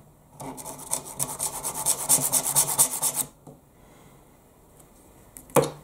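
Rhythmic rasping strokes of a Sandrin tungsten carbide knife drawn across the stone of a KME angled sharpening system, about a dozen quick close passes, then a pause and one last sharp stroke near the end.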